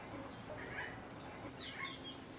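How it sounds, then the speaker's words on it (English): An ovenbird in Cuba's Zapata Peninsula forest sings a short run of bright, high chirping notes at moderate distance, over a quiet outdoor background. "Encounters with oven birds were a regular feature of walks along forest tracks"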